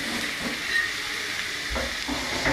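Mud crabs fry in oil for a curry, giving a steady, dense sizzle and hiss close by with small crackling bursts and no talk.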